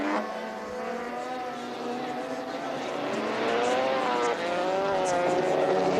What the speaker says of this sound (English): look at those cars sliding round that very, very icy